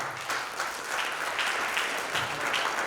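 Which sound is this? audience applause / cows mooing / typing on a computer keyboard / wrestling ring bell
audience applause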